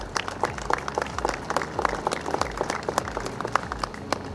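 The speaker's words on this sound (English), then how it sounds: "Please give a loud round of applause for them." Audience applause at an outdoor groundbreaking ceremony for a new municipal complex, a steady patter of many hands clapping at moderate volume for several seconds with no talk over it.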